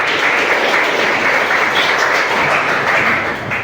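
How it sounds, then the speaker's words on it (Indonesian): A classroom of student teachers applauding together, a dense, loud, continuous clapping that holds steady for a few seconds. "kita beri tepuk tangan dulu."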